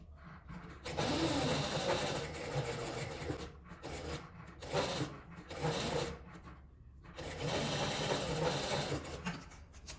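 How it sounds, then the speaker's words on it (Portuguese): A sewing machine runs in several bursts while stitching fabric around the edge of a small card purse, with short pauses between runs of close, steady whirring. "Aqui eu vou costurar, dando a volta nele todo e deixando essa parte de cima aqui aberta."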